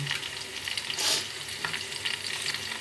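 Curry leaves crackle and sizzle in hot oil, a steady close frying hiss with a brief louder spatter burst near the middle, no voices.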